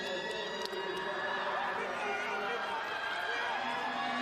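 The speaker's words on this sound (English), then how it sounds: "Decent noise from the crowd entering this home straight now" Steady, dense crowd roar fills an outdoor athletics stadium in Jerusalem as runners enter the home straight of a race, sustained and even throughout, with a commentator talking over it.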